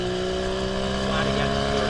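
Flat-six engine of a 2015 Porsche Boxster 981 at full acceleration, a loud, continuous, rising harmonic drone heard steadily from inside the car.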